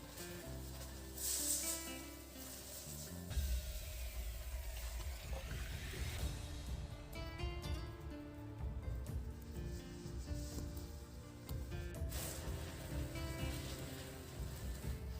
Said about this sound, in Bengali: মশলা কষানো হয়ে গেছে, এবার জল দিয়ে দিচ্ছি।